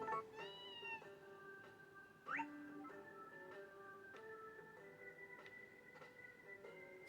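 A cat meows repeatedly in the farm life game Harvest Moon A Wonderful Life on PlayStation 2, several short tonal meows over a soft, steady game background.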